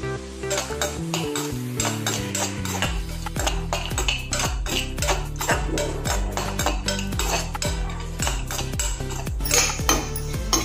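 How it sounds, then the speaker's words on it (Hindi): A spoon stirs cashews and raisins frying in oil in a pan, with steady scraping and clinking strokes over a continuous sizzle, close and fairly loud throughout with no talking. "चम्मच ऐसे चलाते हुए उसको भूनना है"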